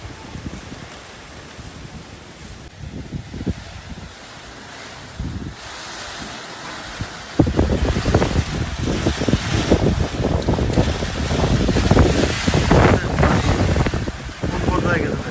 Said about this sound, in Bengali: মানে ঘূর্ণিঝড়ের কাছাকাছি। আওয়াজটা শুনেন ভাই।